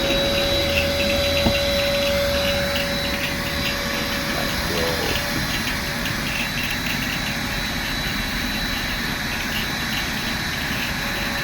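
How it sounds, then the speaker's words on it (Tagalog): Vacuum cleaner running steadily at a car wash, a continuous loud whine and motor drone holding for the whole stretch, with no clear speech over it. "Vacuum."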